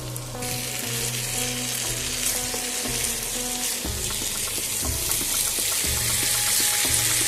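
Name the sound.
quail meat bhuna frying in a pan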